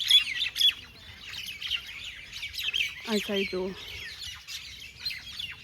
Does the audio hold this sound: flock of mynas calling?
yes